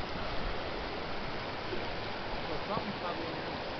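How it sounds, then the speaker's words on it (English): The North Fork of the Kern River in Kern River Canyon, Sequoia National Forest, rushing in a steady broadband wash of flowing water that stays even and fairly close throughout, with no voices over it. "Beautiful Kern River. This is the North Fork of the Kern River."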